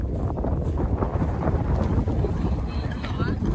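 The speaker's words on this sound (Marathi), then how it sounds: "पाऊस वारा पाऊस आला" Wind and rain on a mountainside during a hike, heard as a steady, loud roar of gusting wind buffeting the microphone, continuous and close throughout.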